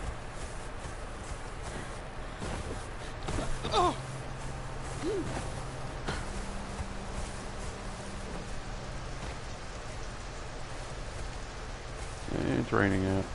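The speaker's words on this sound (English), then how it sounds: "It's raining out." Steady rain falls in the video game Conan Exiles as an even, hissing wash that runs the whole time, with a few soft footstep-like knocks and brief tonal game sounds over it.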